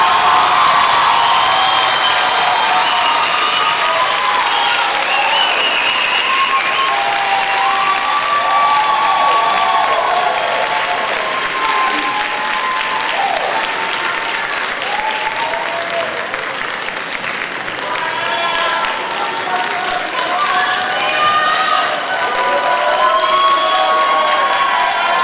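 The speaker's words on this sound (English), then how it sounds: "I'm going to ask the class to turn and face the audience and applaud those who helped you get here today." Medical school class turning to applaud the audience at a white coat ceremony, loud sustained clapping and cheering from a large crowd with occasional whoops, continuing evenly for about 25 seconds.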